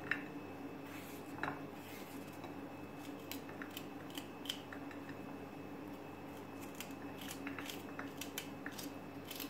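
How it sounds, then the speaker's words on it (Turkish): A knife chopping seeded peppers into small pieces in a home kitchen while preparing tarhana: faint, irregular clicks and taps of the blade on a board, scattered over a quiet background with no talking. "Bütün biberlerimizi aynı şekilde doğrayalım"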